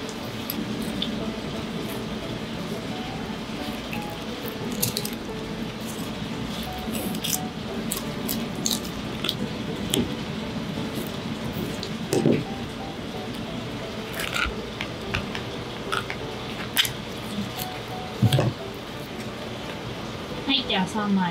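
A knife fillets a blue fish into three pieces, giving soft wet squishing and slicing sounds with occasional taps and drips, steady and close throughout.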